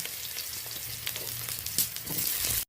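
Diced eggplant drops into hot oil in a pan and fries with a steady, close sizzle, brief louder crackles and a light stir, no voices.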